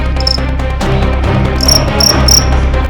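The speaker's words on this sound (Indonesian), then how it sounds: "Biasanya, jangkrik akan berkelahi untuk memperebutkan betina ataupun wilayahnya" Crickets fighting over a female or territory, heard close and loud: sharp, bright chirping bursts repeat in quick pulses over a low steady hum, with no talk.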